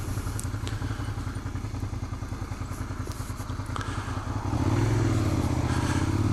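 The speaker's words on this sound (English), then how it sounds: "I'm in second, rolling back on the throttle while letting go of the clutch, and shifting back to first to come to a complete stop." Motorcycle engine idling and running at low speed as the rider downshifts from second to first and rolls to a stop, a steady close rhythmic thumping that shifts to a smoother, louder hum near the end.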